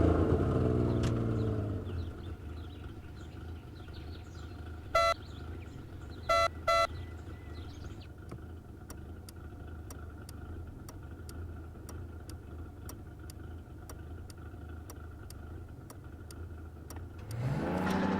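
Mercedes-Benz 300 SL engine in the racing game Test Drive Unlimited Solar Crown: a loud rev at the start, then a steady idle rumble with brief electronic beeps, and a fresh rev rising at the end.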